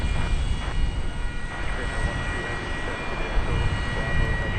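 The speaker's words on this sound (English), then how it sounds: "I don't know if it's the APU on this plane or one of the other planes down there." A steady, loud whining drone from an airliner's auxiliary power unit at Dallas Fort Worth airport, heard outdoors as a continuous racket with a constant high tone layered over broad engine rumble.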